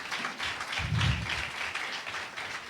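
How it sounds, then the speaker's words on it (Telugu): A church congregation claps together in praise of God during a Telugu sermon, a steady, fairly soft burst of applause filling the hall for a few seconds. "చప్పట్లు కొట్టండి దేవునికి స్తోత్రం"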